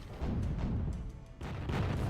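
Envoy units in Zero-K fire in heavy booming volleys, several muffled thuds and blasts rolling one after another over a low rumble.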